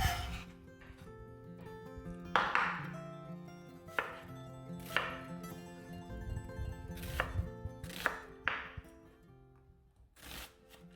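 Knife chopping onion on a board for tabouli, a series of sharp, close knife strikes in uneven rhythm, some spaced apart and others in quick clusters, with no talking.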